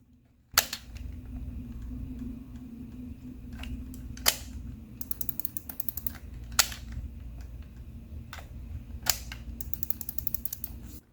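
Sharp digital clicky triggers on a Hex Phantom custom DualSense controller snap close to the mic, single clicks spaced apart at first, then quick bursts of repeated clicks over a faint background hum.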